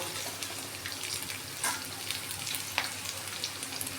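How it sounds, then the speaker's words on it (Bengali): Onions frying gently in a pan on low flame, a faint steady sizzle with occasional soft stirring clicks, no talking. "পেঁয়াজগুলো বেশি ভাজা যাবে না"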